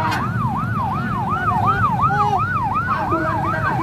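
Wailing ambulance siren with a steady rising-and-falling yelp, loud and continuous over low traffic rumble, heard on a street during a student protest as it moves behind a truck.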